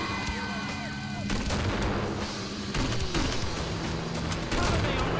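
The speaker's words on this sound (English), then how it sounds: "This is a grenade launcher after all." Booming grenade launcher shots from the video game Killing Floor repeat in bursts over a dense, noisy battle mix with music and sound effects, loud and close throughout.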